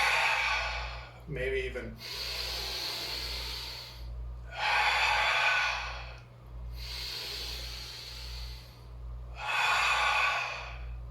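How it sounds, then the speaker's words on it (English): Giant deep breaths taken during an exercise routine, four long, loud, airy inhale-exhale cycles close to the microphone, with a brief spoken aside early on. "take a couple giant breaths"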